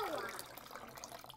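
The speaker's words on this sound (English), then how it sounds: "So now we're gonna add this citric acid and water." Citric acid dissolved in water is poured into a pot of milk while making mozzarella, giving a brief liquid splash and trickle up close that fades into a soft wash.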